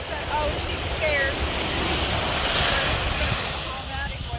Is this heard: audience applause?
no